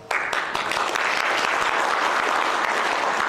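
Steady, full applause from an audience after Lobsang Sangay's keynote speech at an anniversary event fills the room continuously, with no voices over it.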